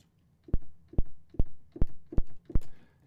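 Six short, sharp clicks with a low thump repeat at an even pace, each tiny and percussive, close and clean against near silence.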